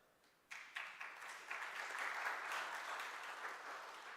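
Conference audience applauding after a remark about the Pune district, the clapping starting suddenly after a brief quiet moment and then building into a steady, dense wash of many hands that holds at a moderate level.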